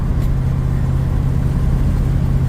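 A 1972 Ford Mustang Mach 1 on a winter drive in about -4 degrees hums along with a steady loud engine and road drone, salt kicking up underneath, no voices.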